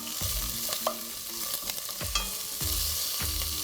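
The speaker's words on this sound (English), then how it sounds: "Give that a little stir." Sliced carrots and vegetables sizzle steadily in a hot wok for a vegetarian Chinese dish, while a utensil scrapes and stirs in several distinct strokes close by.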